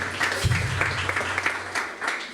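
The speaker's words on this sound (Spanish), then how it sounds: "Dale ese aplauso a Jesús" A church congregation claps in a loose, uneven patter, moderately loud, with a brief low thump early on.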